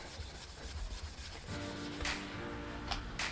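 Fine grit paper rubs over an aluminium Harley Davidson front fork in steady back-and-forth sanding strokes, close and quiet, with a few sharper scratchy bursts toward the end.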